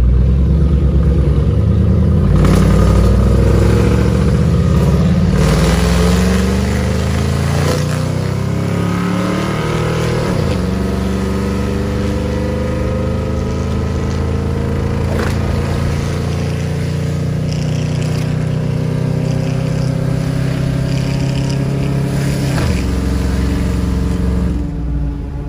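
A loud new truck engine revs repeatedly, rising and falling in pitch with long sustained pulls and rumbling drops, close and dominating throughout with no talk.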